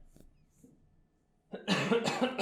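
A short burst of harsh coughing near the mic after a couple of seconds of near silence, rough and loud.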